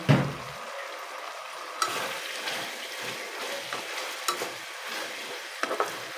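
Beef tapa sizzles steadily in a frying pan after a splash of oil, with a close, even crackle broken by small pops and occasional stirring scrapes.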